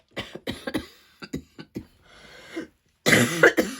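Harsh, repeated coughing, close and loud: a run of short barking coughs, a brief pause, then a heavier final bout.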